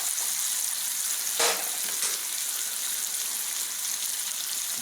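Mushrooms sizzle and fry steadily in a pan for pot roast, a constant close crackling hiss with one brief stirring scrape partway through and no voices.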